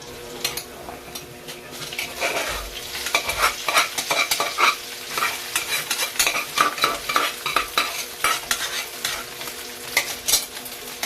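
Garlic fries for sinangag, Filipino garlic fried rice, in a pan with a steady sizzle. A utensil stirs and scrapes against the pan with frequent irregular clinks, close by and with no talk.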